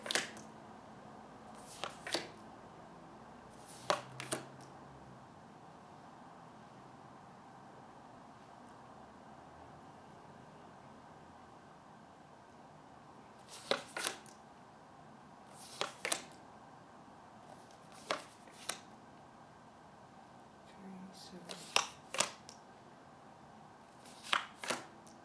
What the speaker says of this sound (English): just take a bit of time to shuffle and lay the cards